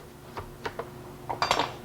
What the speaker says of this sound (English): You have to keep stirring it and packing it until it gets going so it's a little more liquid.